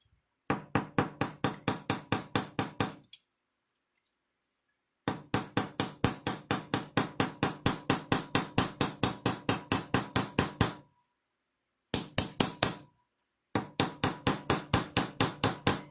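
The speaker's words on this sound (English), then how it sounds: "I'm going to use the ball peen end of the chasing hammer," The ball peen end of a chasing hammer taps metal wire on a holiday ornament in rapid, even, sharp strikes, close and loud, in several long runs separated by short silences.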